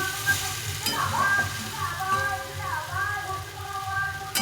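Soybean chunks frying in a pan with a whole garlic bulb, onion and whole garam masala, a steady close sizzle with occasional stirring scrapes and a voice speaking over it.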